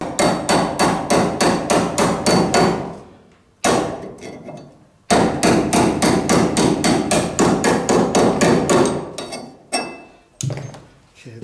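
A bolt hammered up through the bottom of a 1973–1987 Chevy truck door hinge to knock the pin loose, rapid loud metallic strikes in two long runs, then a few scattered hits, each ringing sharply.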